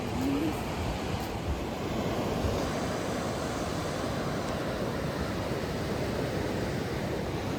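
Continuous roar of sea waves breaking, mixed with wind buffeting the microphone, steady and fairly loud throughout.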